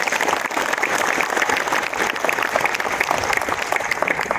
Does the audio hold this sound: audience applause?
yes